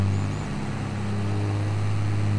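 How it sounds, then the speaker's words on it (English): A wheel loader engine in Farming Simulator 22 drones steadily at a low pitch, a constant rumbling hum with no voices. "you can hear the loader right now"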